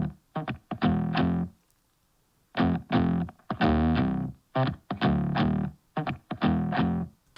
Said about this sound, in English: the guitar that you hear at the beginning, this is the riff that started the whole thing